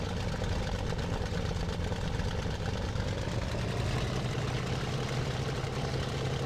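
A Bf-109F fighter's engine drones steadily while taxiing in the IL-2 Sturmovik flight game, a constant low rumbling idle with no breaks and no voices.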